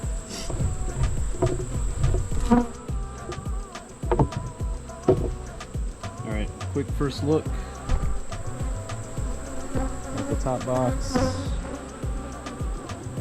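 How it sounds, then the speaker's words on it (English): Honey bees buzz around an opened beehive on a farm, a dense insect drone close by and broken by clicks and knocks of handling, while someone talks briefly over it. "There was a decent amount of bees inside the top cover."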